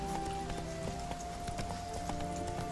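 Horse hooves in The Witcher 3 clopping at a quick steady pace, game audio with a sustained ambient drone underneath and distant clatter, moderately loud.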